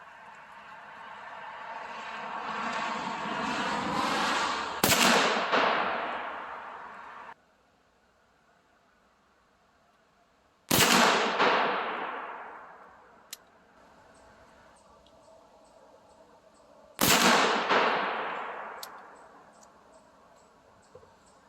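Black-powder shots from a Jukar .45 caliber Kentucky long gun caplock muzzleloader, three sharp loud reports spaced several seconds apart, each trailing off into outdoor echo.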